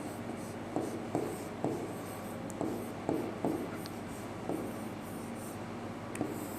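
A teacher writes on a board, making a series of quiet, evenly spaced tapping and scratching strokes, about a dozen over several seconds, against a soft room hum.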